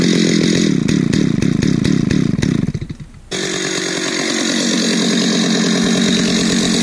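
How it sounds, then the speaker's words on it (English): A small chainsaw runs loud and close, revving in a steady rhythmic roar, dipping briefly as the throttle drops, then settling into a continuous high idle-to-cutting drone with no talk. "It's a smaller saw, but it'll do the job."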